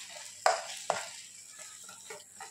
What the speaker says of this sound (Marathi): आता पुन्हा एकदा छान मिक्स करून घेऊया.